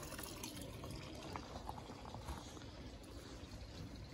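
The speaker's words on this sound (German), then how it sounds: "Wasser fließt wieder." Water running through a sauna pipe after a broken pipe was swapped for a new one, a steady faint rushing and trickling that stays even across the whole stretch with no voices.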